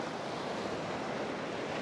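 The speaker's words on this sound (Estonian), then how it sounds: "vaata millised lained sealt tulevad" Ocean surf rolls onto the shore in a dense, steady wash of broadband noise, loud and close with wind buffeting the microphone, no voices present.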